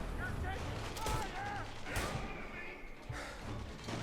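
Scattered gunshots ring out in Mafia: Definitive Edition, several sharp cracks and thuds spaced irregularly among game sounds, fairly faint overall, with a person talking over them.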